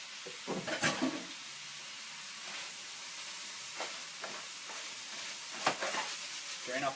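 Ground meat browning in a pan, giving a soft, steady sizzle with a few spatula scrapes and clicks, fairly quiet and without talk.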